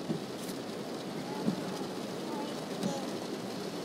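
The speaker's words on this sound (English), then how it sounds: "it's raining a lot" Heavy rain falls steadily outside as a dense, even hiss, with a few faint thuds and soft rumbles under it.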